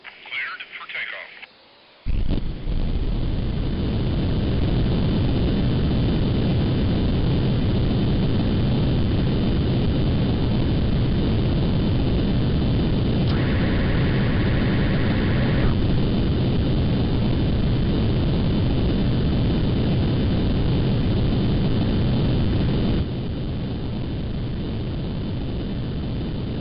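Jet engine roar of an F/A-18 Hornet taking off in a combat flight video game, a loud steady broadband rush that starts abruptly after a brief quiet moment and holds for the rest of the clip, easing slightly near the end.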